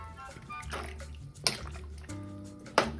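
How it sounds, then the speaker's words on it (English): Shrimp broth poured through a strainer into a pot of sancocho, a soft running trickle with a couple of sharper splashes, quiet and close. "I'm gonna use a strainer to add that broth in here just to give it a little bit of the shrimp flavor"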